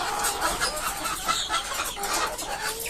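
Backyard hen, newly laying, cluck softly and repeatedly in a steady broken rhythm over a continuous noisy farmyard background, with no talk.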